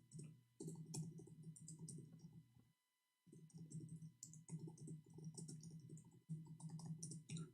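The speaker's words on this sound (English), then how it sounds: "Oops, I was typing for him in Arabic." Rapid clicking of a computer keyboard as someone types a message in Arabic, with a steady low hum underneath and one short pause partway through.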